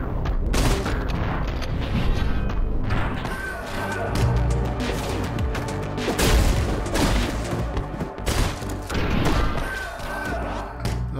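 Dense, rapid bursts of gunfire with heavy thuds and booms from the video game Katana Zero, loud and continuous, with a voice talking over the din.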